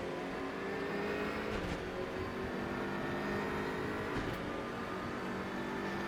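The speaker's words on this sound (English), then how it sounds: "I am driving the BMW M6" A BMW M6 GT3 race car in RaceRoom, in a close race at Spa, roars steadily and fairly faintly at speed, with two brief surges of revving along the way.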